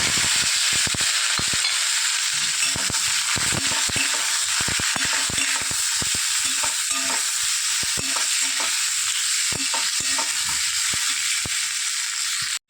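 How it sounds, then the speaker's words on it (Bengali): Boiled potatoes fry in a pan with a loud, continuous sizzle, broken by frequent sharp crackles and stirring scrapes throughout, with no one talking. "আলুগুলো লাল লাল করে ভেজে নিলাম।"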